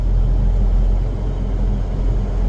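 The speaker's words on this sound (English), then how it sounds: "Now we'll just casually drive down our driveway" A farm vehicle drives down a driveway, its engine giving a steady, loud, close low rumble with no voices.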